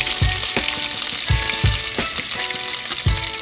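Pork searing in a hot pan, a loud dense sizzle with low thumps and scraping roughly every half second from moving the meat, close and continuous with no talking.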